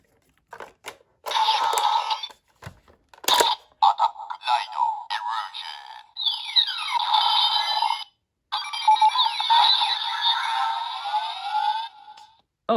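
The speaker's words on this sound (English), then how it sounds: "it's the same activation noise when you pull the trigger." DX Diend Driver toy from the 20 Rider Kicks version firing its electronic activation sounds as the trigger is pulled, with bursts of beeping, ringing electronic tones and jingles, close and fairly loud, separated by brief clicks and pauses.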